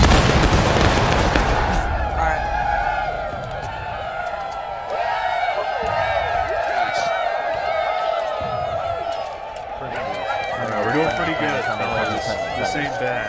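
Musket gunfire in the Civil War video game War of Rights, a dense crackle of shots and distant booms over a busy battlefield din, with a voice talking over it.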